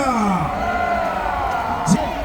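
An audience at a political rally cheers and whoops loudly in a dense, continuous crowd roar, with voices rising and falling throughout.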